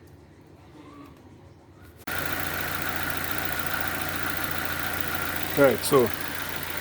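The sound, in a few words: Nissan QG15DE car engine idling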